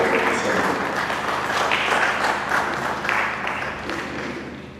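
An audience at a church diocesan event breaks into sustained applause, a dense, even wash of many hands clapping that fades slightly toward the end.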